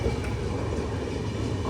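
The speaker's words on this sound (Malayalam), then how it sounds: "അതിലൂടെ ഒരു ട്രെയിൻ പോകുന്നുണ്ട്" Darbhanga–Mysore Express train passing a platform, a steady rumbling roar with low-frequency rail noise that holds evenly throughout the short stretch, close and loud, without clear individual wheel clicks.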